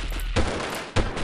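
Gunfire in the Delta Force video game: two sharp, loud shots roughly half a second apart, each with a booming low tail, over a continuous background of game ambience.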